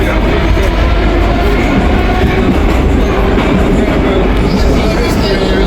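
Moscow metro train pulling out of a deep underground station, a loud continuous rumble with rail clatter filling the whole stretch, a voice faintly under it.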